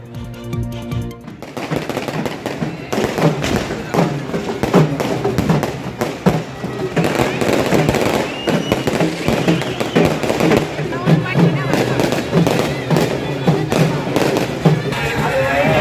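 Fireworks burst over a temple festival during special pujas for the goddess, with rapid crackling and popping blasts layered densely over a steady crowd-like din, sustained and loud throughout.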